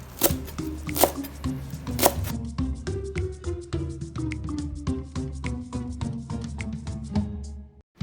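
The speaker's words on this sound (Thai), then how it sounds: "วิธีการหั่นเนี่ยอาจจะหั่นครึ่งก่อนแล้วก็จับทบเลยนะครับ แล้วก็ หั่น ประมาณ หนึ่งเซนนะครับ" A knife chops through folded garlic chives on a cutting board in roughly one-centimetre pieces, making a steady run of sharp, close taps with a few louder strikes early on and no speech.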